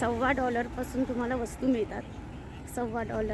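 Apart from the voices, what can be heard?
No everyday noise stands out behind the speech.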